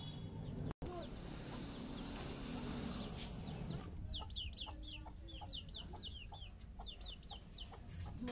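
Chickens on a Nepali farm, where eggs are being collected, cluck and call continuously, with brighter chirping calls growing busier in the second half over a steady outdoor background.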